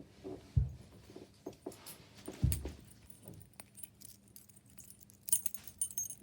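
Keys for a Tri-Circle 265 padlock jangle and clink in a few short bursts, with quiet handling rustles between them and no talking.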